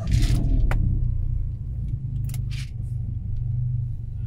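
A modified Proton Savvy's turbo blow-off valve lets out short sharp hissing bursts over a rumbling engine, heard from outside the car.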